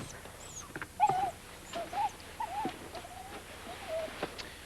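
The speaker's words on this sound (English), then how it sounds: "This dog has gone nuts." A dog whimpers in a 1960 comedy film, several short high-pitched whines and yelps spread across a few seconds over a quiet background.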